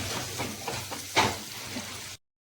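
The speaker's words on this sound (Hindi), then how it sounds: "इसे ब्राउन होने तक अच्छी तरह से भून लेंगे" Onions frying in a pan until brown, a soft steady sizzle with a few light stirring scrapes, close but fairly quiet, ending abruptly in silence.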